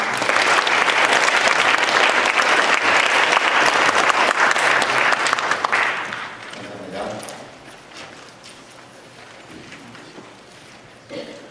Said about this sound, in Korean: 감사의 박수 한번 하도록 하겠습니다